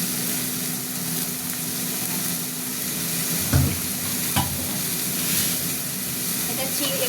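Ash gourd pieces frying in a pan with a mustard-seed tempering, a constant close sizzle and hiss, broken by a couple of sharp stirring clatters.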